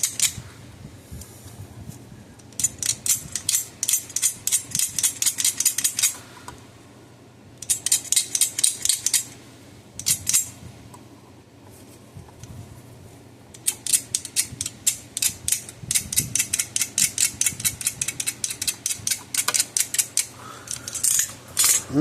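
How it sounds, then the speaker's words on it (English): A knife shaves varnish coating off copper wire on an old Gallagher BEV2 electric fence energizer, giving bursts of rapid, rhythmic scraping strokes, close and fairly crisp, separated by short quiet pauses. "want to shave that varnish off there so we get to the actual nice shiny copper"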